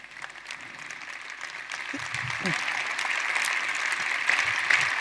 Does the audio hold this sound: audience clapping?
yes